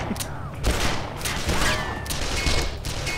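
Bursts of rapid gunfire crackle through a firefight in the video game Call of Juarez: The Cartel, dense volleys and sharp shots layered over game noise, with voices faintly present.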